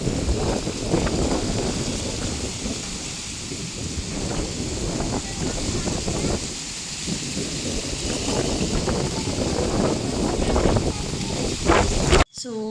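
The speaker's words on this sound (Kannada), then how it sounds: "ನಮ್ಮ ಕಡೆ ಸಿಕ್ಕಾಪಟ್ಟೆ ಗಾಳಿ ಬಿಟ್ಟೈತಿ" Strong wind gusts roar outside a house right after rain, rumbling steadily under a voice talking throughout.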